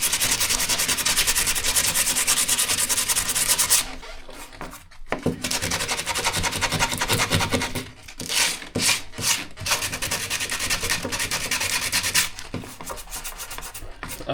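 Abrasive sanding on rusty metal of a camper van floor, a close, loud scraping rub with steady strokes broken by brief pauses and bursts.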